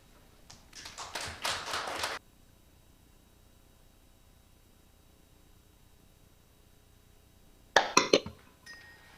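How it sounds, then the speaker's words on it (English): Sparse clapping from a few people at a water-management webinar comes in a short burst of separate claps, then a long near-silent gap and a second brief flurry near the end. "So please give him a big round of applause for the congratulatory remarks."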